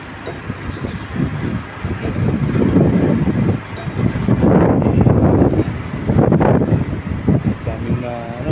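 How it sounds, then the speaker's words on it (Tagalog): Strong wind roars and buffets the microphone at an outdoor construction site in Saudi Arabia, a steady loud rumble that surges and eases, with a brief voice near the end. "Malakas ang hangin."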